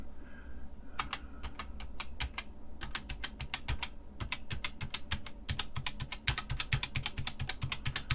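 Keys on an SD Systems computer keyboard are pressed during a key counter interactive test, giving a close, fairly quiet run of crisp individual clicks in irregular bursts with short pauses between them.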